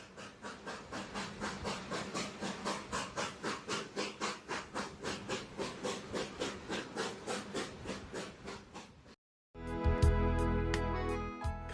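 A narrow gauge steam locomotive on the Cumbres and Toltec railroad in Colorado chuffs in a fast, steady exhaust rhythm for several seconds, then a loud, sustained whistle blast takes over.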